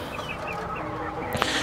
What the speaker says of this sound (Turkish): Burada çok güzel civcivler var.